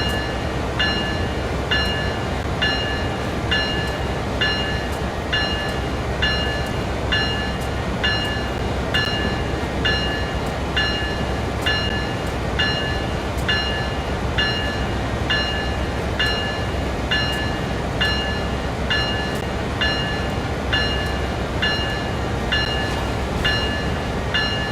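A train running in the Train Sim World 5 video game, a continuous loud rumble of rolling wagons with a steady, regular clicking beat throughout and no talking.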